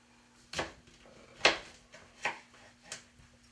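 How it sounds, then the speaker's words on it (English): A knife slicing through a lemon, four separate crisp cuts spaced about a second apart, close and fairly quiet against a faint steady hum. "cut up this lemon, slice it up"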